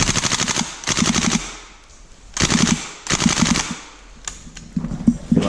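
A gas blowback Thompson airsoft gun fires full-auto bursts outdoors during a skirmish, loud rapid mechanical rattling in three or four bursts separated by short pauses.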